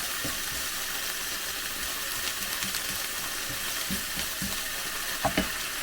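Alamang, shrimp paste, fries in a pan with a steady, close hiss and crackle throughout, punctuated by a few soft clicks and stirring knocks, loudest near the end.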